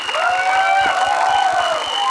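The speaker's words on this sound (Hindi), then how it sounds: "थोड़ा तालियों से इनका स्वागत करें" Audience at a film trailer launch event greeting new cast members with sustained cheering, whoops and applause, loud and continuous with a steady crowd roar.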